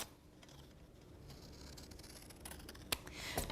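Scissors trim excess paper from the corners of a plain book being covered with embossed paper, a steady close rustle of paper handling with a few sharp snips toward the end.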